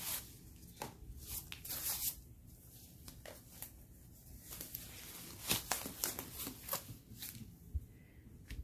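A crinkly piece of mylar resembling nail foil is handled up close, giving irregular crackling crinkles and rustles in quick bursts throughout, with no talking.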